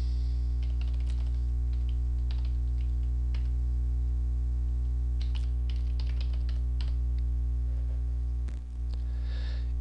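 Someone types a server name on a computer keyboard to connect to SQL Server, giving scattered light key clicks over a loud steady electrical hum, with no speech.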